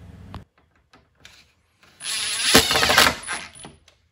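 An H12 screw being driven by hand into a foosball table that has no pre-drilled holes: a few faint clicks, then about two seconds of grinding, ratcheting turning at close range.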